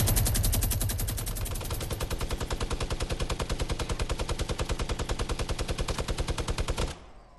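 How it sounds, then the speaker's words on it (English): A minigun in a video game fires one long, unbroken rapid burst of shots for about seven seconds, loud and close, then stops abruptly. "With your minigun, you can really destroy their whole base."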